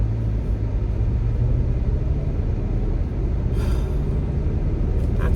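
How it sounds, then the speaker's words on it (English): A troubled car rumbles and shakes while driving on a city street, a steady low droning roar with constant road noise and no talking. "I mean, this car is just rumbling."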